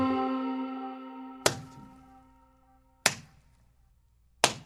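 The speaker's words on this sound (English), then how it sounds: "That's a prisoner being administered several hard smacks on the bum" Three sharp, hard smacks land one by one about a second and a half apart on a prisoner's bare bottom, each a crisp close crack followed by fading ringing, after an earlier tone dies away.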